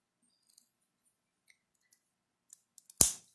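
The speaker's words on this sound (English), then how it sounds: "on the inside of that wire, I'm going to give it a little cut at an angle" Fine silver wire is snipped at an angle: one sharp, bright snap of the cutters, close and alone, preceded by a few tiny faint ticks of handling.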